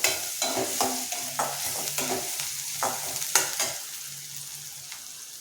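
Onions sizzling in a hot pan while a utensil stirs and scrapes in regular strokes, the frying hiss steady underneath.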